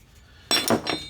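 Pieces of brass scrap metal tossed onto a pile during scrap sorting, giving a sudden bright metallic clatter and clink followed by a second ringing impact, close and fairly loud after a quiet start.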